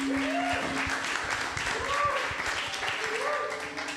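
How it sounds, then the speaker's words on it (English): An audience applauds steadily throughout, a dense wash of clapping at an even level, with a few sliding voice-like tones rising over the crowd noise. "So let's give him another round of applause,"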